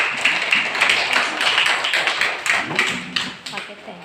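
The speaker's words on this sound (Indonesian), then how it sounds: "Sopwa, tepuk tangan untuk si Sopwa" A classroom of children clapping for a classmate, a dense, ragged patter of many hands held steadily close by for several seconds.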